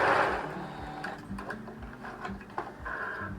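A sewing machine runs steadily as it stitches fabric for a homemade winter snowman decoration, its needle thumping in a close, fast mechanical rhythm that pauses briefly and picks up again.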